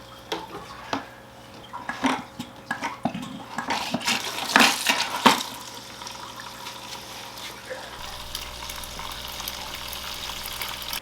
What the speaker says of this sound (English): The first thing I'm going to do is put some tank water into the bucket